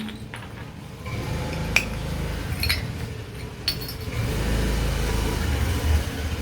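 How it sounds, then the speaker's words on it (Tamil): A vehicle passes on a road, its low engine rumble building steadily through the second half, with a few small clinks nearby in the foreground. "இந்த வண்டி போய்கிட்டே இருக்குது"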